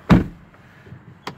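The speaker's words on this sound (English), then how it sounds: "Close the door." A Porsche car door shuts with one solid thump close by, followed by a faint interior click a moment later.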